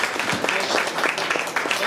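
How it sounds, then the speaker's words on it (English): An audience at a Ward 2 Las Vegas City Council special election event gives a round of applause for the candidates, with steady, dense clapping throughout the short burst. "Give these candidates one more round of applause."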